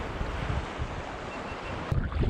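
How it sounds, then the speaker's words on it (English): Choppy waves stirred by a north wind around Lopez Island, heard from a kayak amid boat traffic; a constant roar of surf and gusting wind buffeting the microphone, with a louder wash near the end. "less sheltered on this side with the boat traffic and the waves from the north wind"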